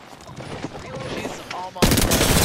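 Gunfire from an Apex Legends match: rapid shots crackle under game noise, then a sudden loud, dense burst of firing fills the last stretch, close and harsh.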